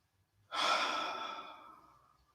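A single long exhale pushed out during a standing yoga forward bend, starting abruptly with a loud airy rush and fading gradually over about two seconds, close and alone.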